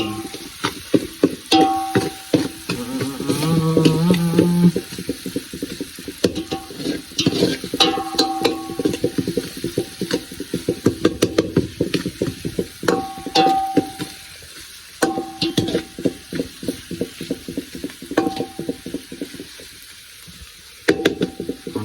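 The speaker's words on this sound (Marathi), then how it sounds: "टोमॅटो मस्तपैकी भाजून घेऊया मग भारी होते" Tomatoes roast and sizzle on an outdoor cooking fire near Rangana Fort, with crackling frying, scraping and stirring knocks that come in bursts and pauses, close and fairly loud.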